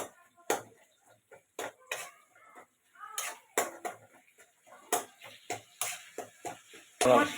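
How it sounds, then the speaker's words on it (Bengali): A tomato is mashed right in a kadai with a metal utensil, giving a series of sharp scraping clanks and taps against the pan at an irregular pace, with a person talking in between. "এখানে টমাটোটাকে আমি ম্যাশ করে নিচ্ছি কড়াইয়ের মধ্যেই এরকম করে"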